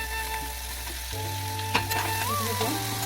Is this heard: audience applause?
no